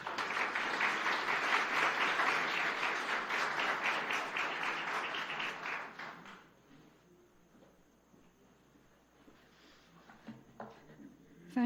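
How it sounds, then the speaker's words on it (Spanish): Audience applause at a reflection meeting, a broad sustained wash of clapping for about six seconds that then fades into quiet room noise with a few scattered sounds. "les pido un aplauso para ella"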